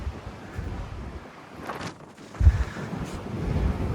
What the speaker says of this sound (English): those wind gusts are really kicking up right now